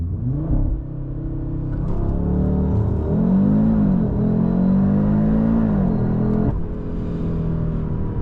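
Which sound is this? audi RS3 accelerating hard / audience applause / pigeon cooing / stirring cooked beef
audi RS3 accelerating hard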